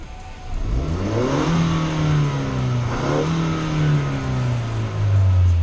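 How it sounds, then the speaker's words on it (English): A 2019-2022 Ford Ranger pickup engine revs up and down repeatedly with a throttle controller in race mode, its pitch rising and falling in loud, close surges without any talking. "there's significant more engine revs coming out of it"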